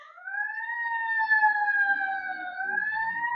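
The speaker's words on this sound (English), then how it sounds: "Wait for the sirens to go." A siren wails steadily outside, loud and close, its pitch sliding up and down gently as an emergency vehicle passes, with no voices over it.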